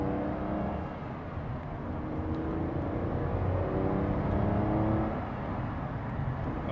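An Aston Martin pulls away on a road in Mexico, its engine droning steadily as it accelerates through gentle, unhurried gear changes, heard from inside the car.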